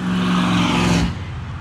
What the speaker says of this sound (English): that was a truck.